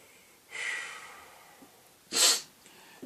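Allergy-season sniffling and sneezing: a breathy sniff early on, then a short, sharp sneeze-like burst about two seconds later, both close and fairly loud with quiet between.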